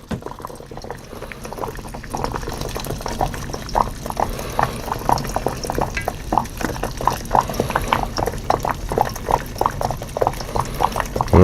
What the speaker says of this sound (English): as it's soaking, you'll have little air bubbles coming up